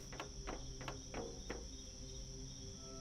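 Cricket chirps in the video game The Planet Crafter, a steady trill with about five louder pulsed bursts in the first half, over constant ambient game hum.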